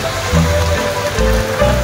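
Rain patters steadily on a surface near Tarlac City, Philippines, close and fairly loud, with a dense constant hiss and occasional low thumps underneath.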